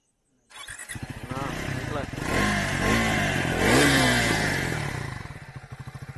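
A 2025 Triumph Scrambler 400 XC motorcycle fires up through its exhaust, rises through a loud rev, then settles into a close, even, pulsing idle thump.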